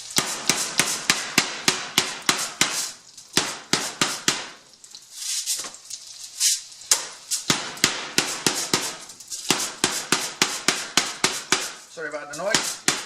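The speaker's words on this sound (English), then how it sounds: "So this is a tenderizer, looking like so. Cast aluminum" A cast aluminum meat tenderizer with a plastic ABS handle pounds schnitzel meat on a board in rapid, sharp, close whacks, running in bursts with short pauses between them.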